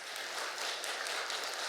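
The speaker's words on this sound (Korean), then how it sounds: "우리 친구들, 귀한 친구들 여러분 박수와 해주시면 좋겠어요" Faint, distant applause for graduating students at a church graduation thanksgiving service, a steady wash of many hands clapping with no voices over it.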